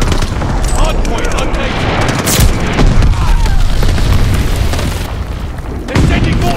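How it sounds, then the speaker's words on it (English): Glide bomb explosion in a combat video game: heavy, loud booms roll through dense background gunfire, with a sharp blast near the middle and another burst late on. "Friendly sending a glide bomb."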